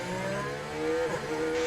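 A McLaren Formula 1 car in the F1 Manager 23 racing game pulls out of the pits, its engine note a steady, fairly loud tone that rises slightly as it moves off.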